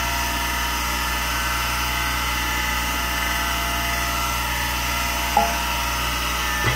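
A power grinder or sharpening tool whines steadily on a John Deere mower deck blade, a constant high tonal drone with a brief metallic clank near the end, close and moderately loud, with no speech.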